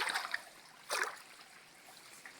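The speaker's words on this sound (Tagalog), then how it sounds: "Ay, dumadaan na tubig sa gitna." Water trickling and gurgling through holes in the middle of a surface, a soft steady hiss with a brief louder splashing surge, faint and close with no talk.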